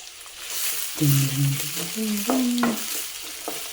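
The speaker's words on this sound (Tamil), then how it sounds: "எவ்வளோக்கு எவ்வளவு தக்காளி வெங்காயம்லாம் வதங்குதோ அந்த குழம்பு அவ்வளோ சூப்பராக இருக்கும்" Onions and tomatoes sautéing with garlic in a pan sizzle steadily up close, with a spatula stirring and scraping out short squeaky tones over the frying.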